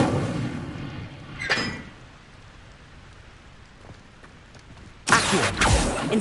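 An Incendio fire spell is cast in a Harry Potter video game near Hogsmeade: a brief whooshing burst, then a quiet stretch, then a second, louder rushing blast over a faint ambient hiss.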